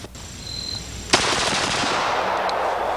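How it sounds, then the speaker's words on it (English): A machine gun fires a rapid sustained burst outdoors on a shooting range, starting abruptly after a faint tone and continuing as a dense, loud, unbroken roar with no talking. "does that thing really shoot as fast as you show? Well, let's see how it does this morning."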